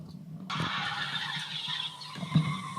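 Recorded noise of an anti-hail weather machine: after a short silence, a harsh, shrieking whine starts abruptly and holds for about two and a half seconds, fairly faint.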